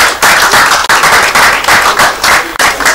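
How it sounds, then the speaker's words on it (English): Loud, dense audience applause fills a live-stream event hall, steady clapping from a large crowd with brief dips and swells before surging again. "So give them a round of applause."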